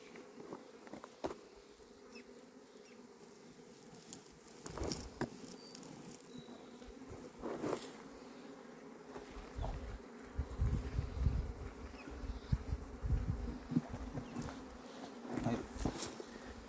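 Apis honey bees buzz steadily around a hive box at a rescue capture, a faint continuous drone with occasional louder passes of single bees nearby, no talking.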